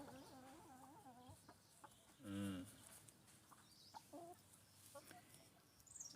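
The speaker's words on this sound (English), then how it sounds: "My chickens have come to join me." Free-range chickens cluck nearby in a series of short, repeated wavering calls, with one louder burst partway through, over a faint outdoor background.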